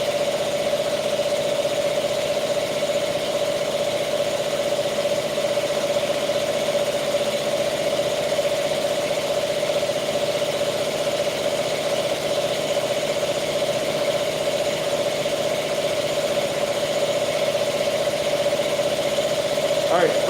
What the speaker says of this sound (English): Sorry for the compressor noise.